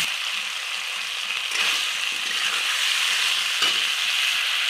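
Ginger paste with salt stirred and frying in a pan for a vegetarian dish, giving a steady close sizzle with scraping stir strokes every so often and no talk.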